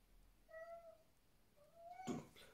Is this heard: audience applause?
no